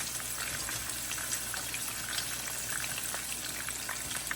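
Squirrel front shoulders fry in a pan in steady, even hiss and crackle, with faint bubbling, close and continuous with no talk.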